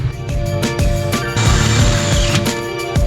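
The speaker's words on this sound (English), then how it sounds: "Just put some riv nuts right in this flange and see." A riv nut tool sets a rivet nut into a steel flange during fabrication on a manual C8 Corvette drift car, giving a close run of sharp ratcheting clicks and squeezing mechanical crunches in a busy shop.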